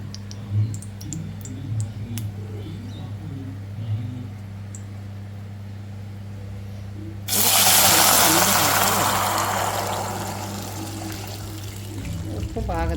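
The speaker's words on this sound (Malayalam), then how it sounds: "നമ്മളതിലേക്ക് വെള്ളം ഒഴിച്ച് കൊടുക്കുകയാണ്" Water pours into a pot for ghee rice with bay leaves already added: a sudden loud, steady gush of splashing that starts midway and gradually eases, following a stretch of low kitchen hum and a person speaking.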